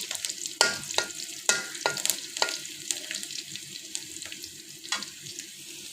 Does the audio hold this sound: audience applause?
no